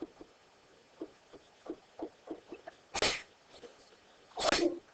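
Two sharp sneezes burst out in a quiet room, separated by a moment of soft background sounds and small movements.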